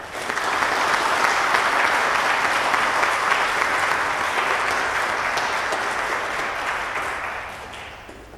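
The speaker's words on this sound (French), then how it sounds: "On peut les applaudir." Church congregation at a Christmas Eve Mass applauding the singers, a sustained, dense wash of clapping that swells quickly, holds steady for several seconds, then gradually thins and fades out.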